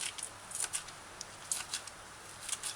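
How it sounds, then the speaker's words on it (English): A knife dices scallion on a cutting board: quick, light, irregular clicks and taps in small clusters, quiet and close, with no talking. "dice scallion fine"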